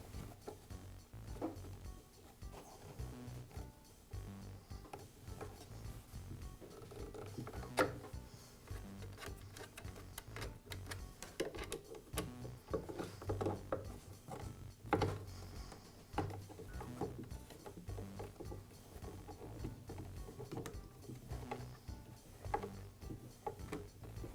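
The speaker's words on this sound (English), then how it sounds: "And now I'll install the 2 screws." Two screws going into the joined halves of a DeWALT planer's replacement fan housing, a long stretch of faint, close ratcheting clicks and small mechanical rattles with occasional louder knocks and no speech.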